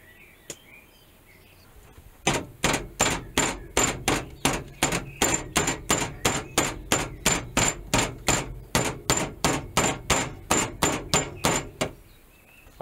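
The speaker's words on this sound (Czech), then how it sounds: "Teďkon si řízky naklepeme." A meat mallet pounds repeatedly on schnitzel steaks, about two dozen evenly spaced thuds in a steady fast rhythm, loud and close, with no talking.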